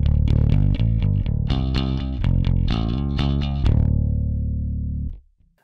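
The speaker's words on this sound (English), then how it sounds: "The dry signal coming straight from the bass with no processing on it at all sounds like this." A dry, unprocessed Ernie Ball StingRay five-string bass with two humbuckers, playing a loud, busy riff of plucked notes, then one sustained note that rings out and stops.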